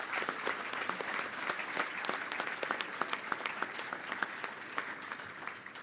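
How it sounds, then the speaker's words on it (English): Audience at a police department annual awards luncheon applauds steadily, a dense, even patter of many hands clapping that continues for several seconds with no talk over it. "let's give a big cheer to the Sunshine State for retired paramedic Tony Espinoza"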